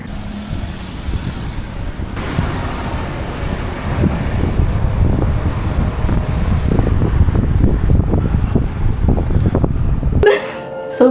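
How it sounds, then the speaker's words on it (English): Steady outdoor wind buffets the microphone at a beachfront hotel in Negombo, Sri Lanka, a continuous broadband roar with gusty low rumble and traffic-like noise underneath, ending in a brief clatter. "So breezy outside."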